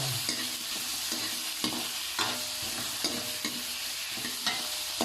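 Chicken ginataan ingredients sautéing in a pan give a steady, loud sizzle, broken by regular scrapes and clatters of a spatula stirring every second or so.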